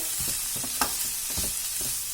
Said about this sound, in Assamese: এতিয়া মই মাত্ৰ 2 মিনিট সময় ভাজিম